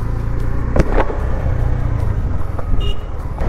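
A KTM Duke 390 motorcycle rides off-road on rough ground, its engine a continuous low rumble close by, with wind noise and a few sharp knocks over the bumps.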